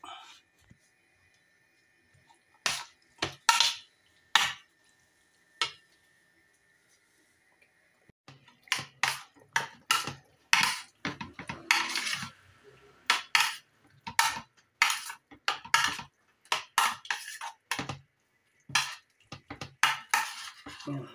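Kilawing bangus, raw milkfish with ginger, chili, onions, vinegar and calamansi, being mixed in a bowl with a utensil, giving repeated close clinks and scrapes in a steady rhythm, with a faint hum at the start.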